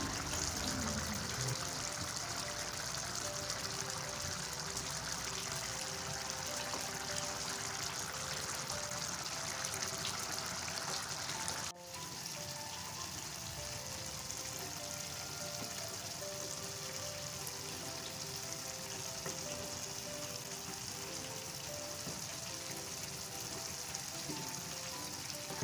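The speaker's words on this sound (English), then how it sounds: "it's time to cover your pot and allow the rice to boil" Nigerian party jollof rice boils in a covered pot, giving a steady, soft bubbling and hissing simmer that runs unbroken and fairly quiet throughout, with no voices.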